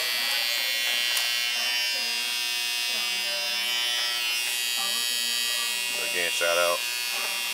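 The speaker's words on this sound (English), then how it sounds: "And you pop it on there. And you have your bevel trimmer." A Bevel electric beard trimmer buzzes steadily and fairly loudly through the whole stretch, its hum holding even while someone briefly speaks over it near the end.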